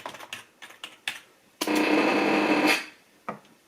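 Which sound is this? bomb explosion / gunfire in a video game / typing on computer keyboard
typing on computer keyboard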